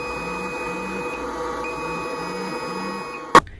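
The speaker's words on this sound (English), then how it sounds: "the PAPR will emit an alarm" An RPB PX4 Air PAPR respirator sounds its warning alarm as a series of low, evenly spaced beeps over a steady electronic hum, ending in a sharp click, with no talk.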